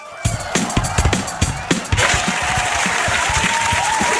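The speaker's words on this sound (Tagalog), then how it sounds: "palakpak para kay Senator Marcoleta" An audience applauds a senator at a speech, with scattered claps building quickly into sustained, dense applause from a crowd.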